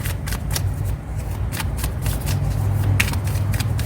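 Tarot cards being shuffled close by, a continuous papery riffle with rapid flicks and taps that swells slightly toward the end, with no voices.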